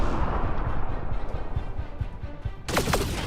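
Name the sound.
grenade explosion in Mass Effect: Andromeda video game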